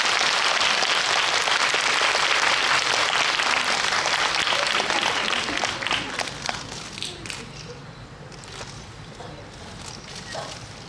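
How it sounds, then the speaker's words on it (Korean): A packed cinema audience at a sold-out screening talk in CGV Yongsan's Hera theater claps loudly at first, then the applause thins and fades into scattered claps and fainter patter toward the end. "입장하기까지 좀 길어서 박수를 좀 길게 부탁드립니다"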